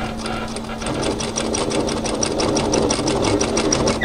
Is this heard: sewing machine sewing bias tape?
yes